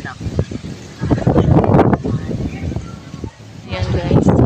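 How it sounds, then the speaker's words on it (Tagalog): Strong wind buffets an outdoor microphone in loud, rumbling gusts throughout, heavy and uneven, while a person speaks over it. "Sobrang lakas ng hangin."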